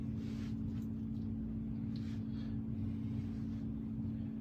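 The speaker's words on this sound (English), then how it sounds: "let's go ahead and put the fan up to medium" A Hunter Summerlin ceiling fan with a 172 millimeter motor runs on medium speed, giving a steady, continuous low hum with faint airy whoosh over it, even and unbroken throughout.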